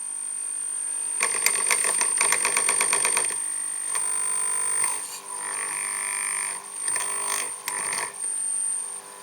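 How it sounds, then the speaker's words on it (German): A model locomotive's EMS electronics emit a steady high-pitched hum under rapid clicking, rattling mechanical bursts that start and stop in short runs, close and fairly loud, with no voices. "Ich schalte das mal an und man hört dieses Brummen."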